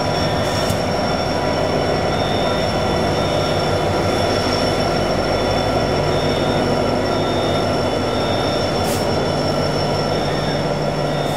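Norfolk Southern SD90MAX helper locomotives on the Pittsburgh Line roar past with a loud, continuous diesel drone. Rolling wheel noise and a high steady squeal run underneath from start to finish.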